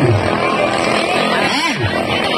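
Racing boat engines roar at a bancathon festival in Bongabong, Oriental Mindoro, a loud continuous buzzing drone with a rising and falling pitch as boats pass, mixed with crowd noise.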